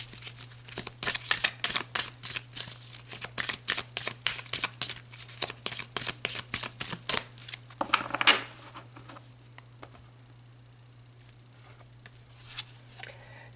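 Tarot cards being shuffled in a rapid, close run of crisp riffling flicks for about eight seconds, then a pause with a few faint shuffles, all over a steady low background hum.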